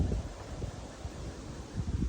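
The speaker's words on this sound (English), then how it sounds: "Super windy outside" Strong, gusty wind blows outdoors on a cold day, a steady low rumbling rush with buffeting surges against the microphone.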